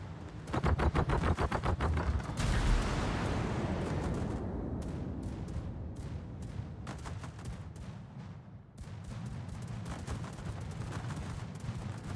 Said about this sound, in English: I like the defensive anti-air fire here.